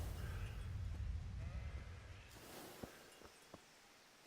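A sheep bleats in the video game Kingdom Come: Deliverance against a low wind-like rumble, followed by a few soft footstep taps, fairly faint.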